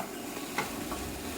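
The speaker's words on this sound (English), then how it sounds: "we're going to mix it around for one last time" Golden-brown mushrooms in a frying pan being stirred once, a brief scrape over a low, quiet sizzle, close and short.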